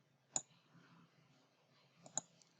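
Two crisp computer mouse clicks, sharp and isolated, sound about two seconds apart in an otherwise quiet room.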